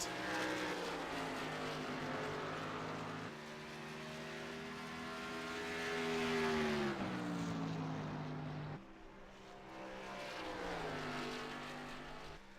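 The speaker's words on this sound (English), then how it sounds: "One other car out on track right now is Katie Osmond." A race car runs laps on track during a qualifying session, its engine note droning steadily and shifting pitch as it accelerates and slows, heard at a distance with no speech.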